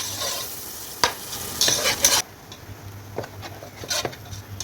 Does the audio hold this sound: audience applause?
no